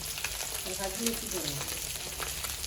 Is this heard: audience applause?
no